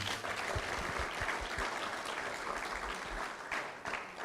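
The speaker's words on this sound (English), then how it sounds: "Let's give a big round of applause." Audience applause at a compliance management workshop, a continuous, fairly dense patter of clapping from a crowd that runs evenly for about four seconds with no talk over it.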